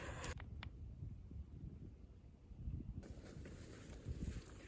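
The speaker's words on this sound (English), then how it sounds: "But like I said, it is kind of windy." Wind blows outdoors in gusts, a low rough buffeting across the microphone that rises and falls, with a couple of brief rustling ticks and no talk.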